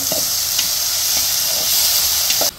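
Onions, green chillies and curry leaves sizzle steadily in hot oil in a pan, a close, continuous frying hiss with a few faint scrapes, cutting off abruptly at the end.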